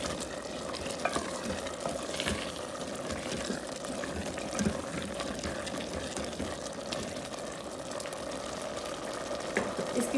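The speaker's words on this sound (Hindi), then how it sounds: "अभी इनको करेंगे हम थोड़ा सा मिक्स" Salted green chillies stirred in a cooking pan for a chicken and chickpea curry, a continuous low sizzle and frying hiss under repeated scraping strokes of a spoon, close up and without talk.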